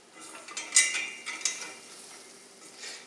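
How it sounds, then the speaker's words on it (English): Butter and flour being stirred together in a pan over medium heat for a white sauce, giving soft scraping and faint bubbling sizzle in a few short strokes, close and fairly quiet. "And then you just stir these together."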